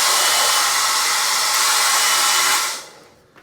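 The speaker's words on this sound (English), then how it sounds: "It's a very powerful hair dryer." A powerful hotel-room hair dryer blows with a loud, steady whooshing roar for a few seconds, then is switched off and its noise drops away abruptly.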